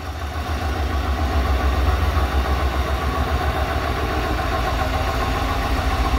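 Yamaha Road Star Warrior V-twin motorcycle idling on its stock exhaust, a steady, fairly loud low throbbing rumble close by with an even pulse throughout.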